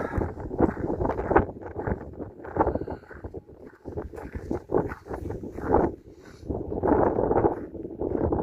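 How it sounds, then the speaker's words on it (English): Strong, gusty wind in Haugesund, Norway, buffets the microphone in loud, uneven bursts with brief lulls, and no voices. "Very windy here,"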